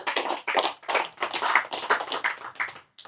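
An audience at a live religious lecture on a campus claps in a few bursts of uneven, fairly close hand claps, stopping briefly near the end.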